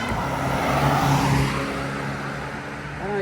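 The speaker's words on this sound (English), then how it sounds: "Please don't move yet, because cars are coming." A car drives past on San San Road, a country road in Portland, Jamaica, its engine rising and then fading over a few seconds amid steady outdoor background noise.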